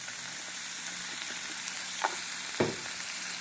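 Vegetables sizzle in a hot pan under dry seasonings, black pepper, oregano and garlic salt, a steady broadband crackle with a couple of soft scraping stirs near the end, no voices.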